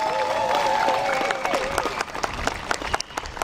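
Spectators at an outdoor Memorial Day parade applaud a young national anthem singer, steady crowd clapping with a voice sounding over it at the start before the clapping turns scattered.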